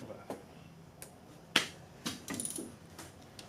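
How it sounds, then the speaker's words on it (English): Sharp clicks from a ratchet tightening spark plugs on a turbo LS engine in a C10 shop, several short snaps spaced irregularly over a quiet background, fairly close. "Just a couple of dudes tightening some spark plugs."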